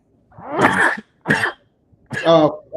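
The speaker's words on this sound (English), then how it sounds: "Bless you to whoever's coughing." Three harsh coughs, the last a double burst, come close and loud with brief silences between them.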